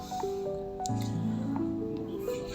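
Pork hock adobo stew in soy sauce being stirred in a pot, a steady wet squishing and slopping that runs throughout, fairly close, over a faint tonal hum.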